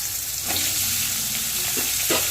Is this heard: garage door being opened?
no